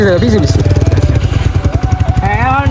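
A motorcycle engine revs with a rapid, pulsing putter close by. The throb is loud and continuous, and someone talks over it.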